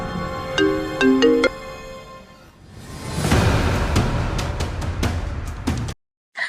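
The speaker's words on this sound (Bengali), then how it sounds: "কতক্ষণ ধরে ফোনটা বাজতেছে" A mobile phone ringtone plays a few short, bright melodic notes close by, then gives way to a broad whooshing rush of noise with some sharp knocks before a sudden cut to silence.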